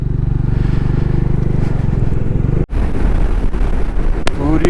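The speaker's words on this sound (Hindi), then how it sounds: "काफिला जा रहा है, लंबा चौड़ा। मोस्टली हिमालयन 450 लग रही है जो पीछे से दिख रही है" A long convoy of motorcycles, mostly Royal Enfield Himalayan 450s, rides through Chumathang village on the Hanle to Leh road, engines droning steadily beneath someone talking, with a brief gap and a later rise of passing engine noise.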